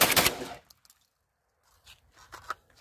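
A Turkish AK-pattern Garaysar Fear-103 fires and cycles rounds, ripping up the spent cases. One loud rapid burst opens the moment, then it falls quiet apart from faint scrapes and clicks of handling.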